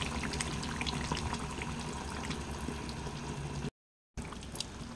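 Water is poured into a pot of green chilli chicken curry with potatoes and capsicum, a steady close splashing rush lasting several seconds, cut briefly by a gap of silence before it resumes.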